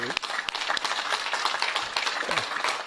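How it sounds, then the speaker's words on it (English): An audience at a Hall of Fame awards ceremony claps for honorees, a steady spread of many hands with a few sharper, closer claps standing out, moderately loud and sustained. "I want to lead a little applause myself for you"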